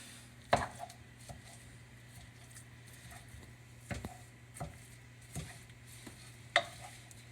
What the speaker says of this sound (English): you're just going to break up your meat using your spoon or spatula